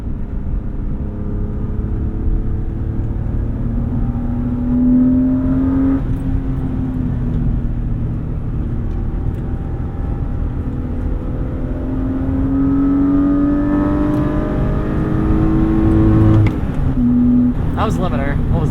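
BMW M3 with a crashed history, its engine revving up hard to the rev limiter from inside the car, a steady loud engine drone rising in pitch with a brief limiter bounce near the end while people talk over it.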